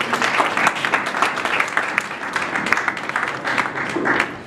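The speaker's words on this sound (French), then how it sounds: "Nous acclamons très fort pour la parole de Dieu." A church congregation applauds and cheers loudly for a sermon at a French-language evangelistic service, with dense continuous clapping and scattered shouts filling the room throughout.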